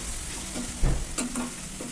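Onion pieces with a pinch of salt fry in a pan with a close, steady sizzle, and a couple of brief louder scrapes or stirs cut through it.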